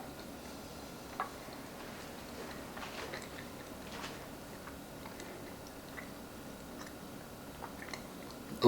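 Someone quietly chewing a bite of homemade chocolate peanut butter oat bar, with soft, faint mouth sounds and a few small clicks spread through the stretch, no talking.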